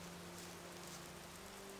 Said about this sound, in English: Yeah, because it's raining, we see nothing.